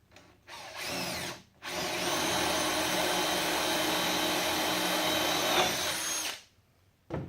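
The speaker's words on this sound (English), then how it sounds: "then I'll drill a hole here" A power drill boring a hole in a clamped wooden countertop with a wood backer underneath, a loud steady whine running about five seconds after a brief first burst, with short pauses around it.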